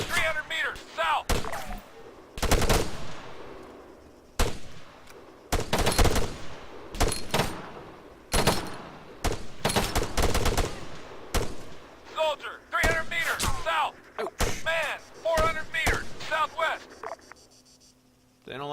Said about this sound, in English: like that machine gun fire